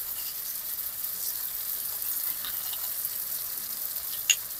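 Ground spice masala with coriander, cumin, turmeric and salt sautés in a pan for a chicken dish, a soft steady hiss with faint crackle and one brief sharp click near the end; no talking.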